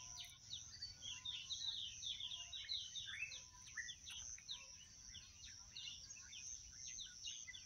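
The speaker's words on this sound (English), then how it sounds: "nice sound of the birds, different species." Backyard birds of several species singing on a fine morning, a busy overlapping mix of chirps and trills at moderate distance over faint insect hum.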